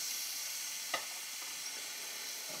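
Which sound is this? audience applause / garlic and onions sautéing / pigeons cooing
garlic and onions sautéing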